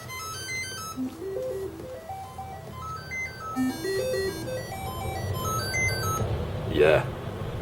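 A Commodore 64 dead test cartridge runs its sound test, playing stepped electronic tones that rise and fall in repeating runs over a steady low rumble of passing traffic.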